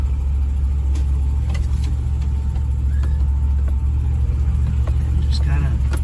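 A Land Rover engine drones steadily in second gear, low range, while driving off-road, with a constant low rumble throughout and a person talking over it.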